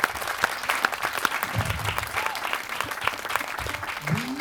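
Audience applause at a jazz quartet concert, steady mid-level clapping throughout with a few louder individual claps and faint voices underneath.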